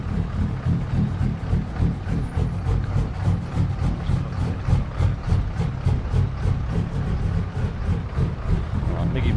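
Several truck engines in a trucking video game run together in a steady low rumble with rhythmic pulsing, filling the whole stretch at moderate loudness; no voices break in.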